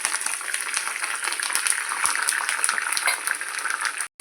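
Curry leaves crackle in hot tempering oil for gongura chutney, a close, steady sizzle with bursts of popping that stops abruptly at the end.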